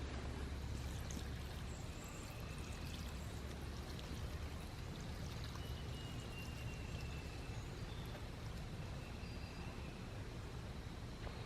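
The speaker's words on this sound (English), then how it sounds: "Let's get some water and water it." Water is poured to water a plant, a soft continuous trickle and splash that stays faint and steady throughout with no voices.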